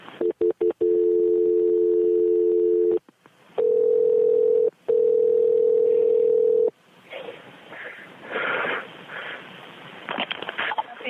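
Close telephone tones on an emergency call to a fire department: a steady dial tone broken by short gaps, then muffled voices over the line.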